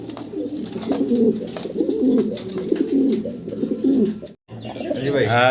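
Caged pigeons at a farm coo repeatedly up close, a continuous, layered chorus of low, rolling calls with a brief pause near the end.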